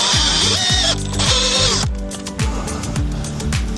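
A power drill drives a screw into a sagging garden gate with several short, whining spin-ups that rise in pitch and stop, close by, with no talking.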